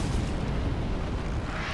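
A loud, continuous rumbling roar with a harsh, explosive texture that stays steady throughout, a dragon's fiery attack in Dark Souls 3.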